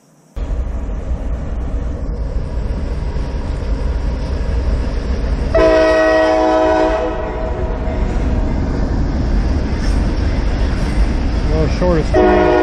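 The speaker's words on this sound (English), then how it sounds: "World's shortest train right there." A train rumbles past nearby with a loud, continuous roar, and its horn blares for several seconds midway through.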